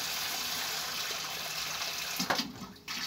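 Air and water gush from a solar water heater pipe being purged, a steady close hiss of flow that sputters briefly near the end before resuming.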